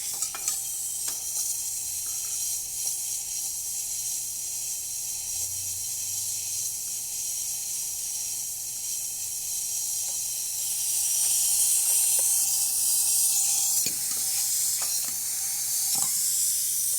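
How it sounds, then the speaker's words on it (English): A freshly serviced and tuned-up Anza espresso machine heats its steam wand, producing a steady, close broadband hiss that grows louder and rougher in the final seconds. "Let's test the steamer. It takes a bit until it gets hot."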